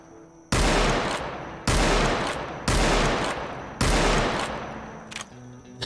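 Gunfire in the Roblox Wild West video game: four loud, broadband bursts of rapid shots, each lasting about a second with short gaps between, followed by a few fainter pops.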